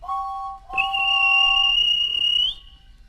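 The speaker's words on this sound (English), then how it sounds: "Then the guard blew his whistle." A railway guard's whistle on a story of a red steam engine: a lower two-tone note briefly, then a long, loud, shrill blast lasting about two seconds that rises slightly at the end before cutting off.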